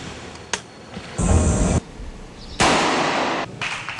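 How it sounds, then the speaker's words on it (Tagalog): A modified grease gun submachine gun fired at a Marine Scout Sniper School range, heard as a sharp crack followed by two louder, sustained bursts of gunfire spaced a second or so apart, with no talk. "Gamit ang modified grease gun."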